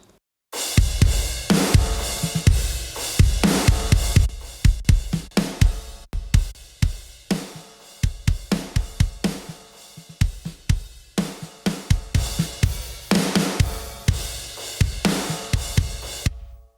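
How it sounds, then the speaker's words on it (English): An isolated drum track from a rock demo mix, heavily compressed with parallel compression, pounds out a loud, punchy groove of kick, snare and crashing cymbals in steady rhythm, with brief stops and no voices. "Let's isolate the drums."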